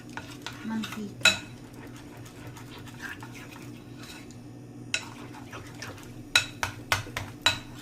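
Shrimp batter is stirred in a bowl with a utensil, producing faint, soft repeated scraping and a few sharper clinks against the bowl, quiet and close with no talk over it.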